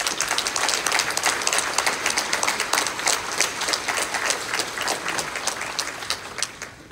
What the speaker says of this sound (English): I don't know if we can give them enough round of applause for all of their efforts to date